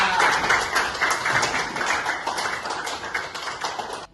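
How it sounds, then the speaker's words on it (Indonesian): Steady applause from a class of students, many hands clapping at once, sustained for several seconds before stopping abruptly. "boleh tepuk tangan buat Eka"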